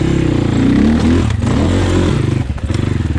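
A Beta RR300 dirt motorcycle with a Rekluse Radius X clutch rides off-road. The loud, close engine note rises and falls as the throttle varies, with some rattling clatter and scraping as the bike moves over rough ground.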